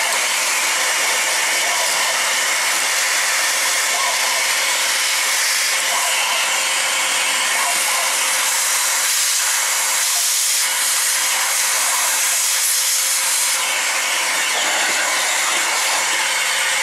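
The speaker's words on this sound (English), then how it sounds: "make sure you always blow out the front vent" Compressed air blows dust from the front vent of a computer case: a loud, steady, broadband hiss that holds for about seventeen seconds, with no talking.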